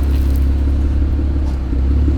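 An off-road vehicle rolls along on deflated tires, giving a steady, loud, low engine rumble with a continuous drone and no break.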